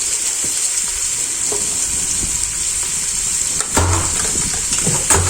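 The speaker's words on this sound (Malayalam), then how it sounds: "നന്നായിട്ടൊന്നും കൂടെ ഇളക്കി യോജിപ്പിക്കാം" Sliced onions with salt being stirred in a pressure cooker for a quick biriyani, a steady close sizzle with occasional scraping knocks of the spoon against the metal.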